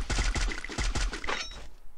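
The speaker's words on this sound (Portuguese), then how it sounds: "Veio tiro das costas aqui" Rapid automatic gunfire rattles in a shooter video game, a quick burst of around ten loud, sharp shots in steady rhythm, close up, followed by a short fading tail.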